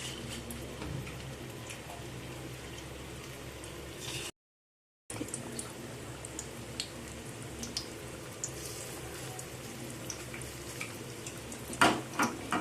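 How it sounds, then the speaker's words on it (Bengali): Drumstick leaf fritters fry in oil in a pan, a faint, steady sizzle with light ticks and crackles. It cuts out briefly and then returns, with a few louder clinks near the end. "যেটা আছে সেটা আমি ভেজে নিচ্ছি।"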